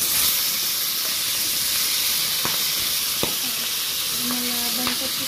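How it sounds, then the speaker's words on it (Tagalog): Fish frying in a pan, a loud steady sizzle and hiss filling the background, with a few faint clinks. "Ang ating piniprito dyan."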